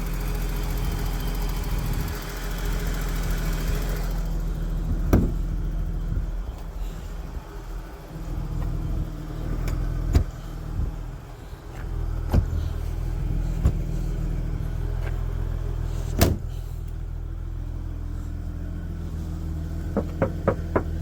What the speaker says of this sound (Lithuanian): Variklis, numatot, patys gražiai dirba